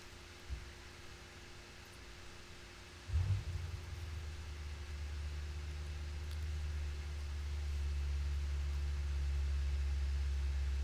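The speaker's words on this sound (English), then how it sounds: "The car just started outside. I got this fan on." A car engine starting outside with a fan running indoors: a faint thump, then a low rumbling start around three seconds, settling into a steady low hum that grows slightly, over continuous quiet fan noise.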